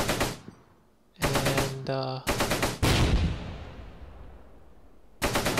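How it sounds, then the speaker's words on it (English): Bursts of machine gun and rifle fire pour into a building in the World War II tactics game Close Combat, coming as several sharp rattling volleys with echoing decay between them, loud, with a brief word spoken. "So let's just put some preemptive fire into that building."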